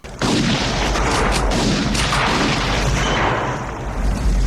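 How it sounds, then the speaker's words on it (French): A shotgun loaded with explosive rounds fires in the 1992 cyberpunk action film Nemesis, a dense, loud barrage of blasts and booms layered over a continuous rumbling gunfight. "Le préfet qui pourchasse toujours Alex et Max Impact sort le shotgun à balles explosives."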